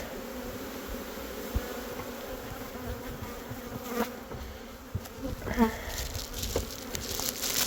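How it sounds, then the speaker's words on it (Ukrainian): Honeybees swarming around an opened beehive, with a continuous close buzzing drone and occasional louder passes of individual bees, plus faint handling knocks. "трошки ще бджоли"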